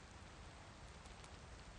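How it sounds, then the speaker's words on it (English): Steady rain falls in DayZ, a dense even hiss of drops on surfaces filling the whole stretch, loud and continuous with no voices over it. "You see the rain outside?"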